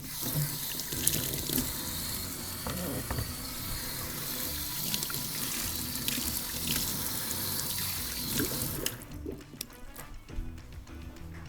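Tap water runs steadily into a sink while hands are lathered and washed with soap in a home kitchen, a continuous close splashing that thins out near the end.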